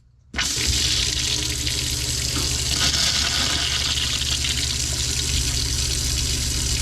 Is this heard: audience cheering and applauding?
no